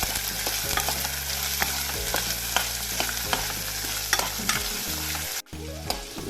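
Spiny gourd (kantola) sautéing in a pan over a low gas flame, with steady close sizzling frying and repeated stirring scrapes throughout, briefly dropping out near the end before resuming.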